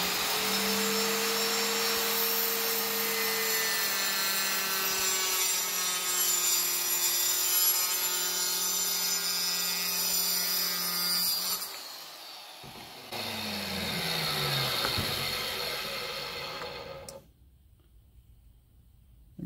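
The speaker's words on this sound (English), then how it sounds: "I just think the smaller cuts will be easier with this skill saw" A circular skill saw cuts through wall tile, starting with a loud, sustained whining grind and rising harmonic tones, then a short pause and a second lower cut before it stops. The sound is close and loud, with no speech.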